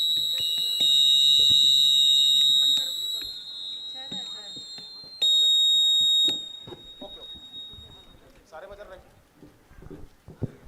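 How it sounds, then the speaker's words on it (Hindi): Electronic quiz-contest buzzers are tested at a government high school: two long, steady, loud buzzes sound, followed by a hall of people talking. "एक बार आप अपना बजर टेस्ट कर लीजिए।"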